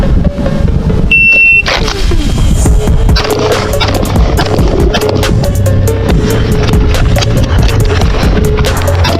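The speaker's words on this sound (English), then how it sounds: "On the buzzer." A shot timer buzzer at pistol practice gives one short, loud electronic beep. A rapid string of sharp pistol shots follows at close range and continues to the end.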